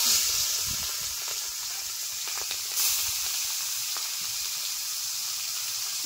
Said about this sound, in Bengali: চিংড়ি মাছগুলো ভেজে নিচ্ছি